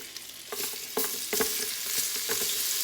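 Onions sauté in a hot pan, a steady close sizzle broken by the scrape and clatter of stirring.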